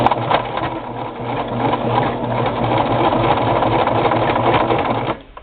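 A Brother LX3014 sewing machine stitching through a thick braided wool rug gives a close, continuous rapid clatter with a rattling hum, then stops abruptly near the end.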